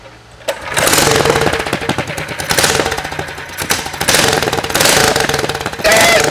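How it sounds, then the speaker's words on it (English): A Ghost mini trike's small engine fitted with a new full exhaust fires up close and loud, sputtering into rapid staccato pops and surging revs in uneven bursts, with a brief quiet moment before it catches. "First start up with the new exhaust."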